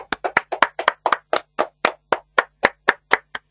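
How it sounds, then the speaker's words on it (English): About fifteen sharp, evenly spaced hand claps ring out close and loud, a single person or small group clapping for a quiz winner at a seminar. "Give a big round of applause to Kaushik Reddy."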